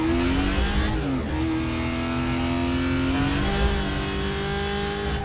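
An Aston Martin engine in Need for Speed Most Wanted (2005) revs loud and close, its pitch climbing through gear shifts and dropping before climbing again, with faint tire noise and no talk.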